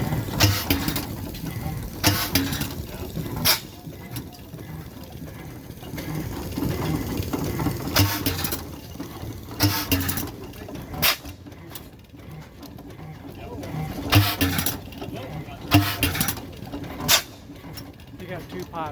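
An antique oil well engine runs on propane at an antique engine and tractor show, giving a slow, rhythmic chuffing with periodic sharp pops, heard close while someone talks over it.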